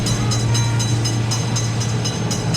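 A train runs past a road level crossing with a car gate: close, continuous loud rumbling and low droning hum, broken by evenly spaced clacks of wheels on rail joints throughout, with no talking.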